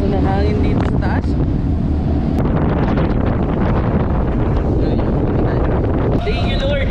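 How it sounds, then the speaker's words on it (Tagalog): Strong wind roars and buffets across the high upper deck of a passenger ship sailing toward Puerto Galera port, Oriental Mindoro, with a steady low engine rumble beneath and a faint voice now and then. "Lakas na ng hangin dito sa taas."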